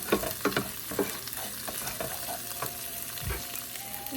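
Creamed chicken sauce being stirred in a pan: a few quick scraping strokes early on, then a steady low sizzle with occasional scrapes, heard close and without voices.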